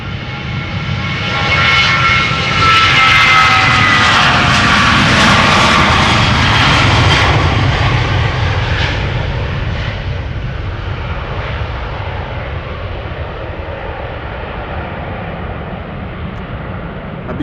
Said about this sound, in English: This is KLM flight 1031 going to Manchester,